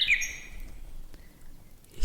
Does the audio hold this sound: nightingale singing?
yes